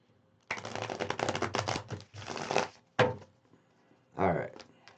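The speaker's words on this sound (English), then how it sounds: "one more better bridge shuffle." A deck of tarot cards being bridge shuffled, a dense rapid riffle of flicking cards followed by a few separate shorter riffles and soft thumps as the deck is squared, close and fairly quiet.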